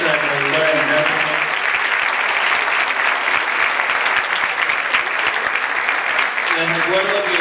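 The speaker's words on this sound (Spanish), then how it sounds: "quiero pedir un fuerte aplauso" Sustained audience applause at a public talk about jury trials in a bookshop, dense and steady clapping from a large crowd for several seconds, with a speaking voice faintly audible at the start and end.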